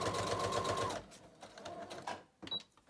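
A sewing machine stitching through a paper journal page, a close steady whirring hum that cuts off abruptly after about a second, followed by quiet handling noises and a faint click.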